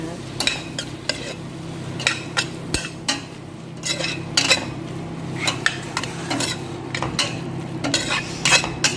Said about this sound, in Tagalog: halo-haloin natin ha